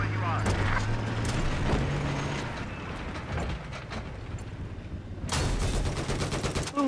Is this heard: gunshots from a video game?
yes